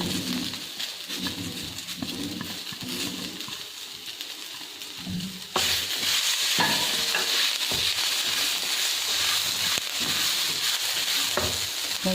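Vegetables stir-frying on low heat in a pan, with cumin seeds in the oil, give a steady broadband sizzle. It grows louder and fuller partway through as the vegetables go in, with scraping stirs over it and no voices.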